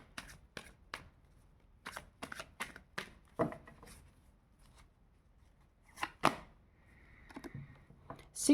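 Tarot cards get shuffled and drawn in short crisp riffles and slaps, clustered early and again later with quiet gaps between, close and fairly soft, with no talk.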